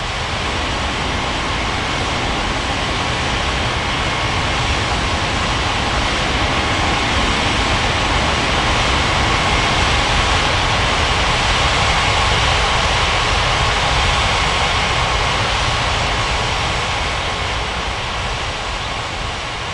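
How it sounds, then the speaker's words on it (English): An airliner in an iOS air traffic control game takes off from runway 27 at Bali's Ngurah Rai airport, its steady loud jet-engine roar filling the whole stretch with a broad, continuous rush. "Indonesia 7653 cleared for takeoff runway 27"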